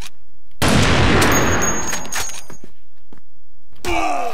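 A loud burst of gunfire from the video game CrossFire in a search-and-destroy match on the Ankara map breaks out suddenly and rattles for about a second, then tails off into quieter thuds.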